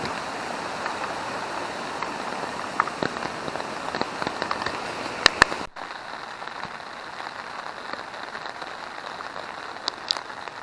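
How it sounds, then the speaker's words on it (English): Heavy rain pours down in the Yakushima forest, a dense, steady broadband wash of falling water with occasional sharper drips and taps, continuous throughout and heard without talk. "So just to give you an idea of the sheer amount of rain that we've been receiving."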